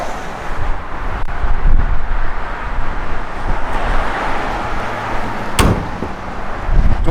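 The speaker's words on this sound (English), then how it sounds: "Doors, everything opens and closes real nice." Doors of a 1969 Chevrolet Chevelle SS being worked, with a sharp close thump standing out near the end amid steady outdoor wind and faint road noise, no talking.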